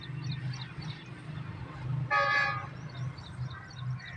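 The Karakoram Express passes by with a low rumble, then gives one loud, clear horn blast of about half a second midway before the rumble carries on.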